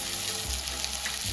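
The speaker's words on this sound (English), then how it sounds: "Turkey breast, we're gonna go in skin side down. Nice little sear happening." Turkey breast searing skin side down in a hot pan, a steady close sizzle with broadband hiss and low rumble running through the short stretch, no talk.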